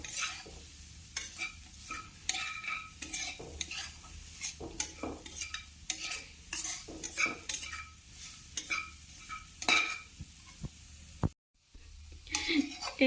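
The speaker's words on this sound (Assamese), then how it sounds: "মই সকলোখিনি ধুনীয়াকৈ মিক্স কৰি ল'ব।" A spatula scrapes and stirs potato chop filling in a pan, making irregular clinks and scrapes over a soft sizzle, with a short break near the end.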